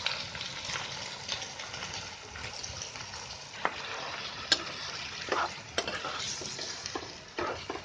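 Masala paste for Konkani-style chicken curry roasting in a pan with garlic, a steady close sizzle and frying crackle with occasional stirring scrapes and clinks, no voice.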